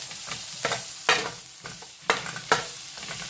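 Vegetables for a gratin sautéing in a pan, bursts of sizzle as a utensil stirs and scrapes them around, several uneven strokes close by.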